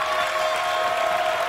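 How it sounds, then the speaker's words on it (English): A crowd at a TwitchCon Hearthstone match cheers and applauds as a dense, steady wash of clapping and noise, loud and unbroken for a moment. "Crowd really going wild here."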